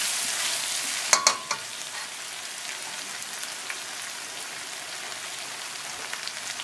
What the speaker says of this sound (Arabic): برضو تشويحه كده